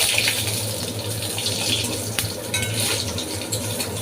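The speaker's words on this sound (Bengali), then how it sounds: "তো এটা আমি ভালোভাবে একটু নেড়ে ছেড়ে নেবো।" A dried red chilli and a bay leaf sizzle in oil in a pan while a utensil stirs them, giving a continuous frying crackle with scraping and light metallic clinks at close range.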